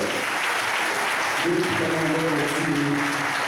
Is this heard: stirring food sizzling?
no